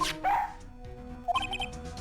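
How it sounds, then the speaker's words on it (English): Missile, a K9 police dog in training in the Phoenix Wright Trilogy game, gives a few short, bright yips and barks, close and distinct over a quiet background. "Missile? He's a K9 police dog still in training. Missile, here, boy!"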